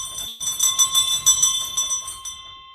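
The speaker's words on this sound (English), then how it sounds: "I want to ring the bell" A small bell rings a few times, bright shimmering metallic strikes with a lingering ring that fades out, close and clear with no talk.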